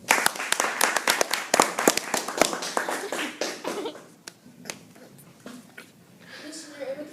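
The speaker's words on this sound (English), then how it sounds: "Please give a round of applause for these two bright young students of KMMS Middle School." Audience at a KMMS Middle School Red Ribbon Week assembly clapping in a dense burst of applause that thins out and fades, with talk continuing underneath as it dies down.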